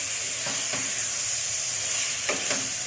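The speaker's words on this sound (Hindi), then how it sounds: "अब हम इस मसाले को ऐड करते हैं, अच्छे से इनको भून लेते हैं दोबारा से" Mutton liver with spices and coriander frying in a pan for masala kaleji, a steady close sizzle with a few stirring scrapes of a spoon, no talk.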